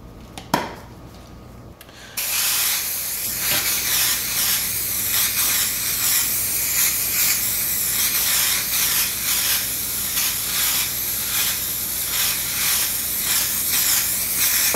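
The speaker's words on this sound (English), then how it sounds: "using the SprayMax wax and grease remover" SprayMax wax and grease remover sprayed from an aerosol can onto a cured painted panel, a steady loud hiss that runs unbroken for about twelve seconds after a short click and pause, with no talking.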